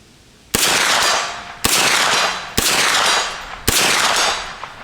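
Four loud, sharp gunshots from a Smith & Wesson pistol-caliber carbine on an outdoor range, spaced about a second apart, each with a short ringing decay.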